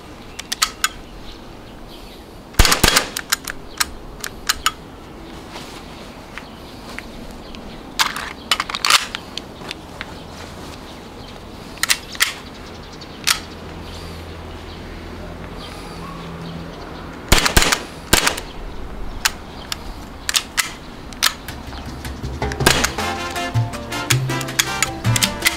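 A CO2-powered gun fires repeatedly as its gas runs low, sharp cracks in scattered single shots and quick clusters, ending in a rapid rattling string, over a steady outdoor background.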